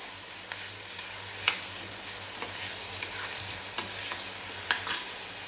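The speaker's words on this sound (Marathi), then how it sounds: "आपल्याला कांदा छान गुलाबी रंगावरती परतून घ्यायचा आहे" Chopped onions sauté in a pan with curry leaves, a steady soft sizzle under repeated light scrapes and taps of a spoon stirring, close and without talk.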